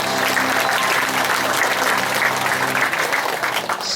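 Steady, loud audience applause fills the room from a crowd at an evening talk on family life, sustained and even throughout with no voices over it.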